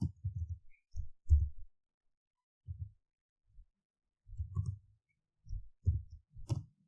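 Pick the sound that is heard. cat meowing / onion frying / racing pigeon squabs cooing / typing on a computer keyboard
typing on a computer keyboard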